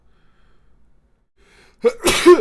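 A single sharp sneeze bursts out near the end after a stretch of near silence, loud and close, during a conversation among tabletop role-playing game players.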